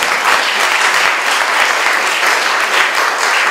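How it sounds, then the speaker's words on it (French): An audience at a conference talk on cardiac coherence and education bursts into dense, steady applause, many hands clapping close and loud for the whole stretch with no voices over it. "On peut l'applaudir, je pense."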